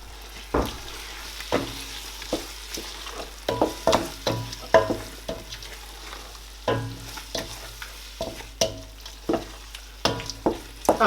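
A spoon stirs Nigerian egg sauce in a pan over a low sizzle, making repeated close scraping knocks at an irregular rhythm with no talk.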